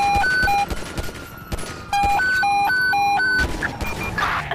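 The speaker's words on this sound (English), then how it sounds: "Shots fired!" Gunfire in the video game GTA V with the LSPDFR police mod, loud bursts of shots interrupted by repeated electronic beeping tones, with a crash-like impact near the end.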